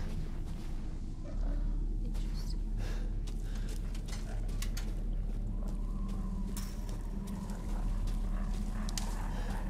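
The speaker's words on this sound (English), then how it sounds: "I don't like all the growling that I hear." Monsters growl in the video game Resident Evil Village: continuous low rumbling snarls with scattered thumps and scuffles, moderately loud throughout and with no talking.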